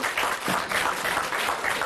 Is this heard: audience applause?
yes